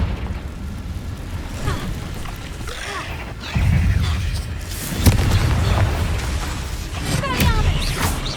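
Fire and explosion effects from a Confringo spell in the Hogwarts Legacy video game, with a deep boom bursting out and further rumbling blasts layered over continuous game noise.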